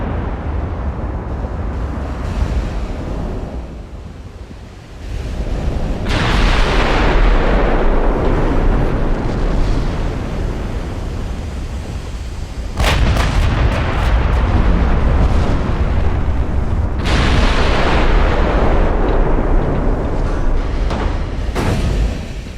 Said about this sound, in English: The 18-inch guns are firing, it seems like.